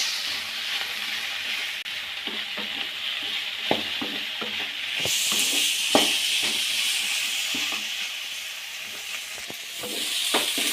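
Capsicum frying in a pan for a curry, a steady hissing sizzle with occasional soft stirring knocks and clinks against the pan, close and continuous.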